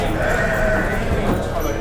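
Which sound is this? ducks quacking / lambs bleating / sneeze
lambs bleating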